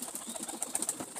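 Pet pigeons kept in a loft give soft, repeated cooing throughout, close and fairly quiet, with a few brighter high chirps near the end and no talking.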